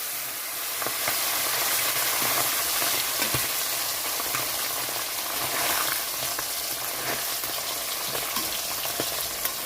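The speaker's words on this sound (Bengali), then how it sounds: "এখানে তেলটা গরম হয়ে গেছে তো আমি মাছগুলো ভাজার জন্য দিয়ে দিচ্ছি তেলে" Loud, dense sizzling of chang (snakehead) fish frying in hot oil, a constant bubbling hiss with occasional pops, close up and uninterrupted.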